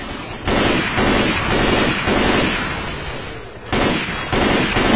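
Loud, close bursts of automatic gunfire in the co-op zombie shooter Left 4 Dead 2, rapid rattling volleys in several bursts separated by short pauses.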